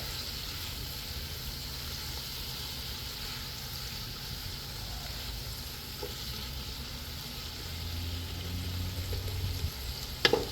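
A pot of snapper stew sizzles and bubbles steadily, a continuous close frying hiss with soft clinks of stirring and a few sharper knocks near the end; no one speaks.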